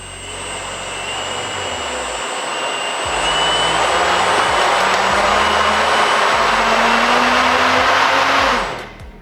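Vacuum-powered model plane motor at high throttle, a loud, steady high-pitched whine and rush of air that grows louder partway through and cuts off abruptly near the end, close and alone.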